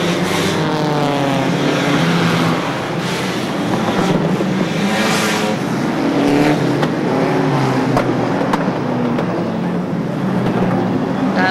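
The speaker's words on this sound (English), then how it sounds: "especially in the early stages of a stock car race" Stock saloon cars racing at Ipswich in 1978, engines roaring past in overlapping waves as the pack sweeps around the oval; loud, rising and falling passes fill the whole stretch, with no talk over them.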